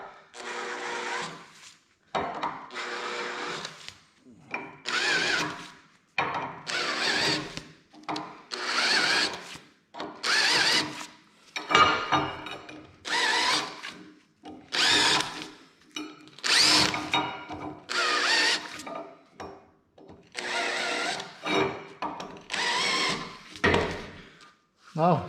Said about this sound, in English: So now I need to deburr all the holes, clean them up a bit.